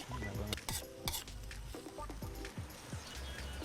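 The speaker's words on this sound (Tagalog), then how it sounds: "nailagay na yung pugita, halo-haloin lang natin" Octopus stirred in a pan for adobo, heard as repeated close scrapes and clanks of a utensil against the pan over a faint sizzle, irregular and moderately loud with no talking.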